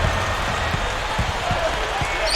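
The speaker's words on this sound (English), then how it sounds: "now the crowd really getting into it. Listen to that." A basketball arena crowd in the NBA 2K13 video game roars steadily and loudly, with sneaker squeaks and a few ball bounces beneath the cheering.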